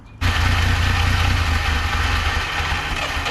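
A 1958 Lull cherry picker that sat unused for 15 years catches and starts abruptly, its old engine settling into a loud, steady running rumble with a slightly uneven pulse.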